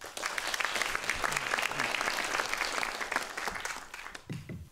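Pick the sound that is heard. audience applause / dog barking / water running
audience applause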